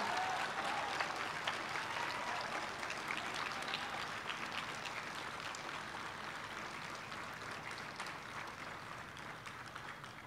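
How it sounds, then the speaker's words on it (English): Sustained applause from a graduation ceremony audience honoring the teachers, a dense steady wash of many hands clapping that fades slightly over time, with no talk over it. "will you just give them a grateful and a loving round of applause?"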